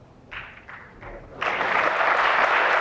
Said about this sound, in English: Warmly applauded by the crowd here in Riyadh